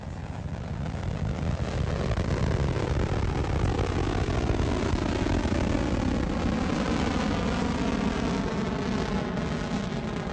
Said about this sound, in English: And we have ignition and liftoff of NASA's ICESat and CHIPSat spacecraft